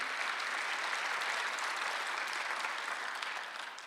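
A church congregation at a Sunday worship service claps in a continuous, even wash of applause that tapers slightly at the close.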